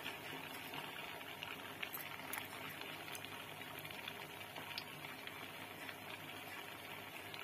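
Mysore bajji batter frying in hot oil, a quiet, steady bubbling hiss with occasional tiny pops, faint and continuous throughout with no talking.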